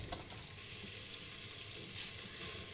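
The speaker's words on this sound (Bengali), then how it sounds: "খুব সুন্দর করে মশলাগুলোকে ভেজে নিব" Spices sizzling in hot oil with ginger-garlic paste for chicken biryani, a steady close frying hiss with small crackles and a couple of brighter spatters, no voices.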